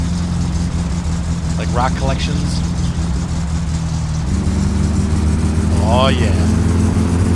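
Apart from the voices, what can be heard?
car engine running in My Summer Car video game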